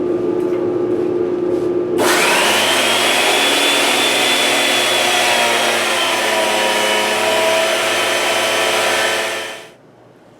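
A Powertec blade planer runs through an old piece of knotty fir with a dust collector going. A steady hum breaks into a loud, sustained roaring whine for about eight seconds, then winds down to the low drone.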